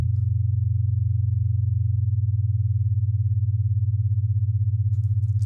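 A steady low binaural brainwave tone set in the beta range hums continuously and fairly loud, with a regular pulsing beat in its volume and no other sounds.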